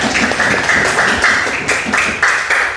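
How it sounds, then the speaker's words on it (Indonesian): A class claps loudly and close by in a series of rhythmic bursts of clapping that sound like a short cheer pattern. "Tepuk tangan yang meriah"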